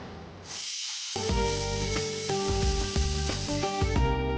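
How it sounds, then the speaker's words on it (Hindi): A pressure cooker releasing steam in a home kitchen: a hissing rush swells into a loud, shrill, sustained whistle with sputtering pulses, close and with no other sound. "ये कुकर है ना, एकदम गलत टाइम पे सीटी बजा के मोमेंट खराब कर।"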